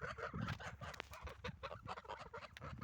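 Domestic geese honking in a rural farmyard, a steady busy chorus of overlapping calls at moderate distance, quiet overall with no voices.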